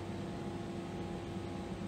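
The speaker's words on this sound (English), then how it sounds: "You can hear the pump that's sucking through in the background." A pump draws a vaporized water sample through plastic tubing into an isotope analyzer, giving a steady, low mechanical hum with an even whirring texture throughout.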